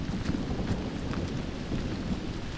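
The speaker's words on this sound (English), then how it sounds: "That's thunder for sure." Thunder rumbles low and continuous through steady rain in a remote Costa Rican cloud forest in the Talamanca Range, a dense, even roar with no clear separate claps and no voices.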